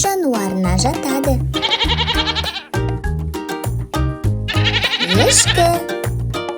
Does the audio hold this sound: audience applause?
no